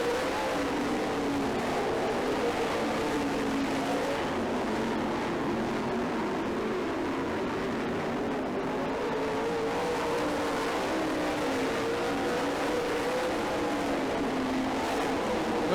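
Race cars circling a dirt track during a race, a continuous distant engine drone that rises and falls gradually as the cars roar around, steady and without sharp breaks.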